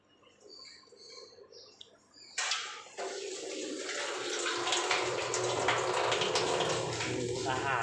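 Water gushes from a tap into a kitchen sink, starting abruptly and then running steadily and loudly, with faint chirps and quiet background sounds before it.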